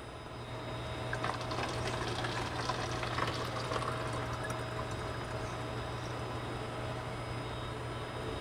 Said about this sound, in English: we'll go ahead and give it a pour